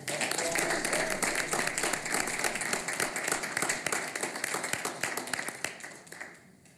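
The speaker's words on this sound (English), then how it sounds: "So give him a big round of applause." Applause at a school board of education meeting for a student runner who set a record, a dense steady round of clapping from a room audience that gradually tapers off at the end.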